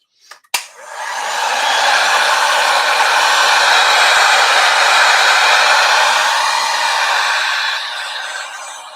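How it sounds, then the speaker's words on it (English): A heat gun blowing on wet paint, a sharp click as it switches on, then a loud, close, steady whooshing roar of hot air that fades slightly near the end. "Just hitting this with my heat gun a little bit."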